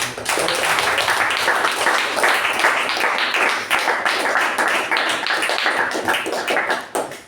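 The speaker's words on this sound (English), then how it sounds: "Our way of thanking her is through a special round of applause." A room of people at a communication club meeting claps in a sustained round of applause, dense and steady throughout, with individual claps standing out and the sound tapering slightly toward the end.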